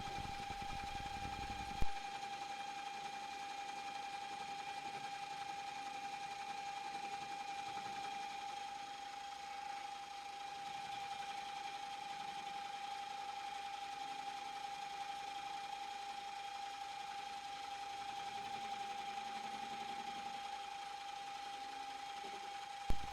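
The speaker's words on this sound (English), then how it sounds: "Lower the spindle slowly through the workpiece, and then slowly raise it back up again. This is our first trial cut." Milling machine with a boring head making a slow trial cut through a workpiece, a faint steady motor hum with a high whine, heard alone with a couple of brief clicks.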